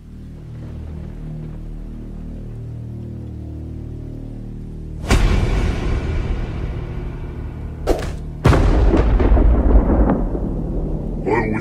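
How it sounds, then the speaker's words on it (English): A loud explosion sound effect in a stop-motion Spider-Man fan film bursts in suddenly, then a second heavy blast follows a few seconds later with deep rumbling that trails off, over a low droning background. "Some kind of explosion."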